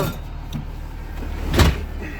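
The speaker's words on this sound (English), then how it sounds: "I'm going to close the door." The door of a 2018 IC CE school bus closes with a short motorized whir and a muffled thud near the end, heard up close inside the vehicle.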